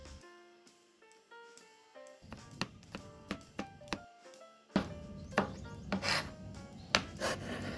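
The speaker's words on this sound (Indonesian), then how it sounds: "2 siung bawang putih ukuran sedang, dirajang kemudian diiris halus" Knife finely slicing garlic cloves on a wooden cutting board, a steady series of soft close taps and rasping cuts, quiet at first and then louder and denser, over faint background music.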